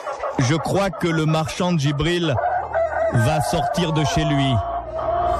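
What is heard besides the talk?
rooster crowing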